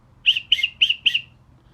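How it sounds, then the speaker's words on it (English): Four quick, shrill blasts from a brass whistle in a rapid even rhythm, close and fairly loud, over a quiet background. "He also sent me this rather cool whistle."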